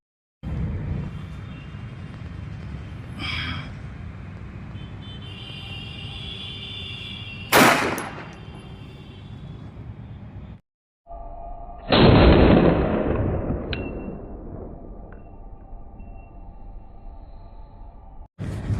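Two loud, sharp reports from an HPM Hughes .380 ACP pistol firing full metal jacket rounds, one near 7.6 seconds and a longer, more ringing blast near 12 seconds, each standing out against steady outdoor background noise.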